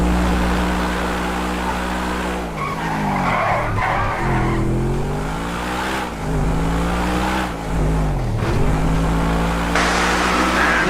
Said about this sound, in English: Tyres squealing.